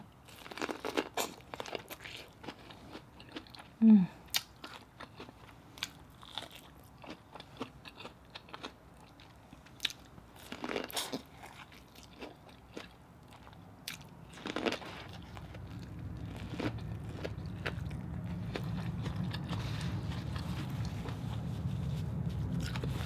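Corn from a seafood boil is bitten and chewed up close, giving scattered crisp crunches and wet chewing clicks, irregular and intermittent, with a steady background hum rising in the second half.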